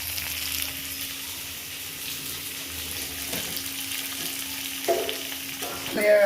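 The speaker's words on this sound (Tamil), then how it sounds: "மாங்காய் நல்லா இந்த எண்ணெயில் வந்து நல்லா வதங்கிட்டு" Raw mango sautés in hot oil for a Tirunelveli-style jaggery mango pachadi, with continuous gentle frying crackle and occasional stirring scrapes that grow louder at the very end.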